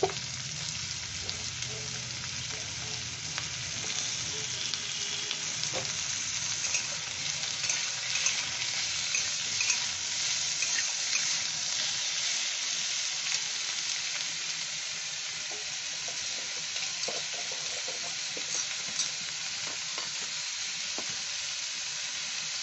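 Thinly sliced potatoes frying in a pan for a potato and pointed gourd dish, with a constant close sizzle and occasional soft stirring scrapes throughout.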